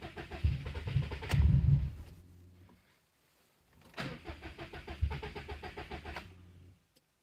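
A car engine revving and running at a raised idle, in two bursts separated by a short quiet gap, fairly close and moderately loud with uneven surging throb.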